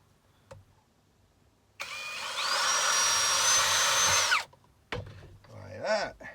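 Power drill boring test holes into metal in a shed, one sustained loud whine of about two and a half seconds with a rising pitch, then short bursts and scraping afterward.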